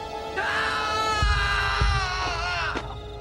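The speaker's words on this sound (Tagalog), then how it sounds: "Pasakay na si Dennis sa kotse nang biglang marinig ang malakas na sigaw ni Flynn kasunod ng isang angil ng mabangis na hayop." In an audio drama, a loud, sustained human scream wavers in pitch for about two and a half seconds, with a couple of low thuds or growling bursts underneath it, close and dominant.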